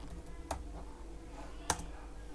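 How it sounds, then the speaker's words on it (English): A computer keyboard is typed on during a word-processing spell-check demonstration, with two sharp clicks standing out over a faint background hum. "suppose if I am typing"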